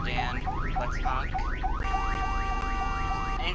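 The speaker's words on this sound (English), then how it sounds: "that's the same horn as the Crown Victoria" A 1990 sedan's horn sounds one steady blast of about a second and a half, partly overlapping a run of repeated rising, chirping sweeps that fill the whole stretch at an even, moderate level.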